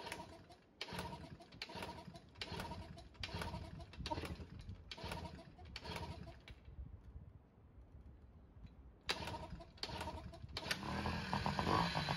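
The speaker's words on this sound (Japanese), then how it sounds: "エンジンを始動いたします。" A small two-stroke Honda Motocompo scooter engine, with two-stroke oil mixed into its fuel, sputters and revs in bursts, revving poorly and pulsing roughly, then stalls briefly before catching again with a buzzy, uneven idle.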